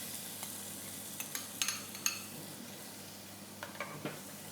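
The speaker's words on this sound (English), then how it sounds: "we're going to add a squirt more of oil, just a little bit. And we're going to go in with a whole white onion," Finely diced whole white onion hits a little oil in a pan, a faint soft sizzle with a few light clinks and stirring scrapes of a utensil against the pan.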